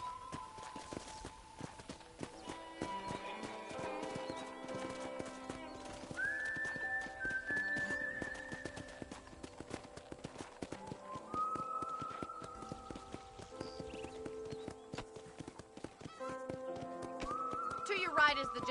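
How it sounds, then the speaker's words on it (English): Horse hooves clip-clopping at a steady walking rhythm on a ranch in the western game Red Dead Redemption, mixed under continuous background music and speech, with a horse's whinny cutting in. "I picked out a fine horse for you."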